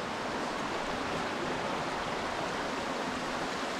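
A winter waterfall in snowy woods sends out a steady, dense rush of falling water, continuous and fairly loud with no other sounds and no voices.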